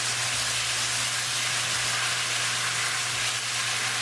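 Sugar syrup poured into roasting semolina for sooji halwa sizzles in a steady, loud hiss that fills the whole stretch, with a constant low fan hum beneath it and no talk.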